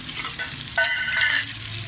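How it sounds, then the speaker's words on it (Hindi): Onions browning in oil in a pot give a steady close sizzle, with a louder burst of stirring and spattering around the middle before settling back to an even fry, with no voices. "जैसे हमने प्याज इसके अंदर डाल दी है ब्राउन होने के लिए"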